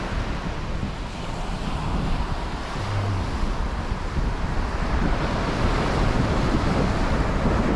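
Surf and wind at a public beach in winter, with a steady broad wash of waves and gusty wind buffeting the microphone throughout, no voices.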